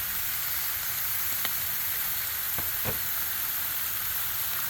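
Taylor ham, bacon and egg sizzle steadily on a Blackstone griddle, a constant bright frying hiss with a few faint clicks and taps of a spatula, no voices.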